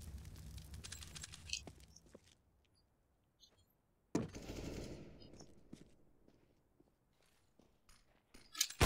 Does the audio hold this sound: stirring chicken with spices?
no